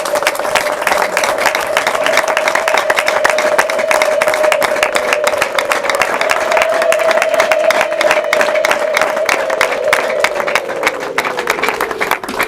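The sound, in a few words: crowd applauding and clapping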